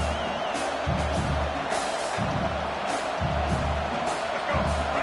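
A stadium crowd at a Stanford versus Michigan football game roars steadily for the defense on third down, a broad wash of cheering heard at a distance under a commentator's voice.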